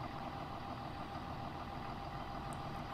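A Massey Ferguson 7400 tractor engine in Farming Simulator 19 runs as a steady, low, fairly faint idle rumble with no change across the stretch.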